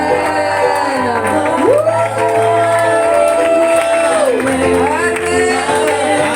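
A congregation at a baptism-by-immersion ceremony cheers and shouts in acclamation, a loud, continuous crowd roar with tonal, sung-like voices running through it the whole time.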